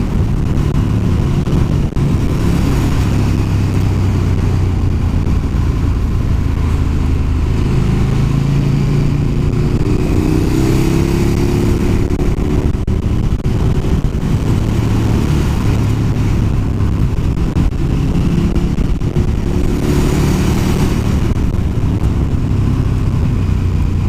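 A KTM 1290 Super Duke R motorcycle rides mountain passes in the Bergamo area: a loud, continuous engine drone with wind rush, and the pitch rises and falls as the rider shifts and accelerates.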